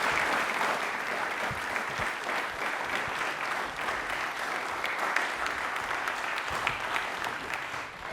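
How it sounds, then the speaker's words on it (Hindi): Steady, full applause from a studio audience welcoming Dr. Praful Chhabra on a DD Rajasthan quiz programme, a continuous crowd clapping that holds evenly throughout. "एक बार तालियां हो जाए डॉक्टर प्रफुल्ल के लिए प्लीज, जोरदार वाली"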